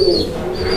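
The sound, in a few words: pair of black Danish pigeons cooing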